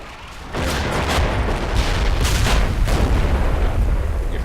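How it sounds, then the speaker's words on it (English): An Apache attack helicopter strafes a road with rockets in a modern military strategy game, heard as a sustained roar of overlapping booms and blasts that pulse loudly for several seconds. "The Apache makes a rocket run on this road."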